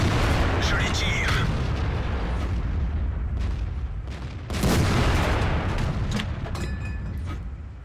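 Tank cannon rounds firing in a World of Tanks or War Thunder battle against an IS-3, heavy booms amid continuous rumbling combat noise, with someone talking over it.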